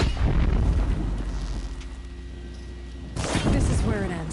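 A loud explosive blaze shot fired in Horizon Zero Dawn, a heavy booming blast with a long rumbling tail, then a second burst of crackling impact near the end.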